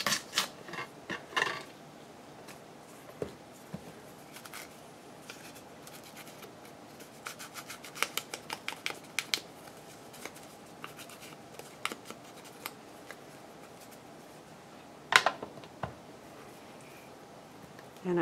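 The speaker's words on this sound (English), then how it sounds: "I'll just tear off two of these and then I'll cut off whatever else is left." Scissors snip and hands tear paper envelope ephemera close by, making quiet, irregular crisp cuts and rustles scattered across a soft background, with a sharper cluster of snips near the end.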